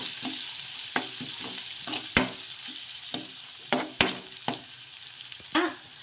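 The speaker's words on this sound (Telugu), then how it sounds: "క్యారెట్ తురుము కూడా వేసుకుని ఒకసారి బాగా కలిపేసుకుందాము" Grated carrot stirred into a frying mixture in a pan for gobi manchurian, a steady sizzle punctuated by several sharp spoon knocks and scrapes against the pan at irregular intervals.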